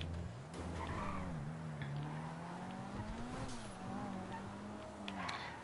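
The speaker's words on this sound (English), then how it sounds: "Here we go with the Kuruma, the 2nd car to go." A Kuruma, a Subaru Impreza-like sports car in GTA Online, races with a steady, droning engine note that rises and falls with revs, accompanied by faint tire and road noise throughout.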